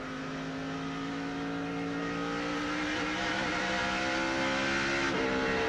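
Busch Series stock cars racing at Bristol, a steady loud roar of several engines with shifting whining tones as cars circle the short track late in the race.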